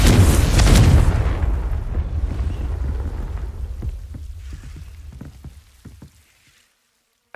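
In Hogwarts Legacy, the Confringo fire spell bursts in a loud, close, booming blast that rumbles and crackles, fading over several seconds into scattered pops, then near silence.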